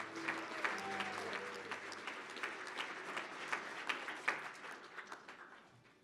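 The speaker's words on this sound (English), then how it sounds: "Great applause." Banquet audience at a hall of fame dinner applauding steadily, a moderate, fairly close patter of many hands that fades out toward the end, with a faint voice briefly underneath.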